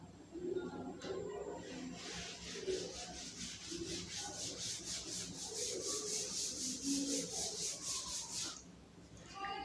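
An eraser rubbing writing off a board during a maths lesson: steady, rapid back-and-forth scrubbing strokes repeat for about eight seconds, moderately close, with faint background noise.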